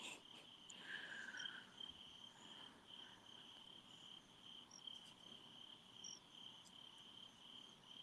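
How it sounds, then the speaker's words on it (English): Crickets chirp outdoors at night in a continuous faint high trill, with a brief louder chirp burst nearby and no voices. "I can hear crickets."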